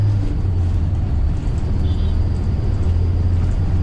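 A Mahindra Thar 4x4 CRDe diesel cruises along an empty road, its engine a steady low drone with constant road and wind rumble inside the cabin.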